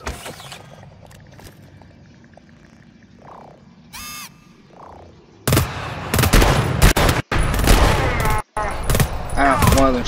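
A sentry gun firing in the co-op shooter GTFO: after a quiet stretch with faint mechanical sounds and a couple of beeps, bursts of rapid automatic fire break out loud and close, broken by brief gaps.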